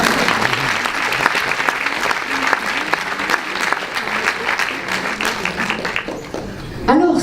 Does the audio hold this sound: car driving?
no